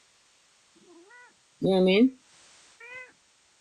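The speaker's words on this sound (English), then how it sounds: "Excuse my cat." A pet cat meows three times nearby, with a short soft cry, then a loud drawn-out meow, then another brief one, while a person speaks in between.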